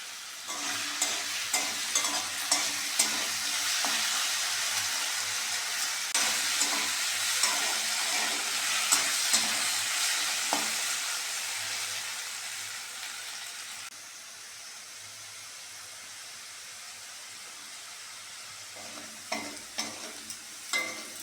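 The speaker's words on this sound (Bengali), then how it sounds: "পোহার জন্যে আলুটা ভালো করে ভেজে নিতে হবে।" Potatoes with turmeric fry in a pan for suji poha, sizzling steadily while a spoon scrapes and stirs them in repeated strokes, quieter toward the end.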